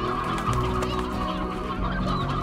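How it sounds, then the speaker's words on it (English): A crowd of hens in the Slime Rancher video game clucking continuously, a dense overlapping chatter of fowl calls with no pauses, loud and close. "We will leave these poor harried hens be."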